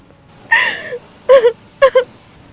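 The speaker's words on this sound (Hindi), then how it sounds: "आपको किसी लड़की की रोने की आवाज आ रही है क्या?" A girl crying: three close, loud sobbing wails, the first drawn out and the next two short and broken, with nothing else around them.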